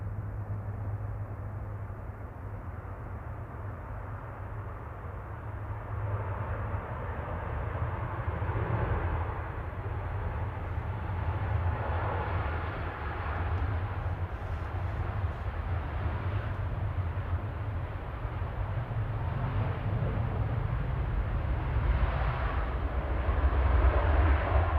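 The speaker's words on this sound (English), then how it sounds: "It's TUI flight 2147 from Lanzarote GTUMC 737 MAX 8." A TUI Boeing 737 MAX 8 passing at Manchester Airport, its jet roar swelling slowly and steadily from moderate to loud over about twenty-five seconds, a broad rumbling wash with no talk.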